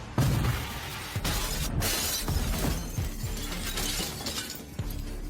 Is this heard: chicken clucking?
no